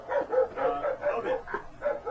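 A dog gives a quick, steady run of about six short, mid-pitched yapping barks, close and moderately loud.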